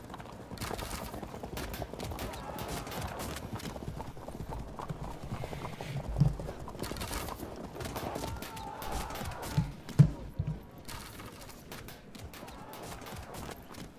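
Galloping hooves clatter steadily through a Field of Glory battle, with a couple of sharper thumps and faint horse calls rising from a busy, continuous din of mounted troops.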